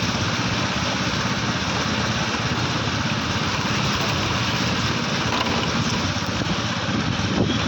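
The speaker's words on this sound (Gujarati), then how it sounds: "ગાડી લઈને જઈ રહ્યા છે ભગુડાથી બગદાણા ધામ." A car travels along a rain-soaked road during the first monsoon rain, giving a constant broad roar of engine, tyre and wind noise, steady and fairly loud from inside or near the vehicle.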